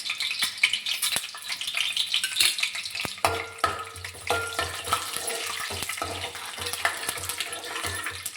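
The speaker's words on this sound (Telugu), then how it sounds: "వేడెక్కిన తర్వాత పోపు దినుసులు వేసుకోవాలి." Tempering spices crackle and sizzle in hot oil, a busy spattering hiss with scattered sharp pops that continues steadily throughout.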